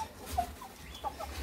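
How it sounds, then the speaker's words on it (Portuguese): Hens on a backyard poultry farm, a flock of laying chickens, give soft, scattered clucks at moderate distance over a low steady rumble, with no talk. "esse monte aqui de galinha que tá botando"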